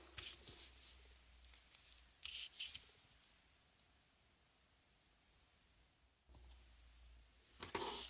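Scissors snip double-sided tape during a craft gift-box project: quick, crisp cuts cluster at the start and again near the end, with a quiet pause between them, close up and soft.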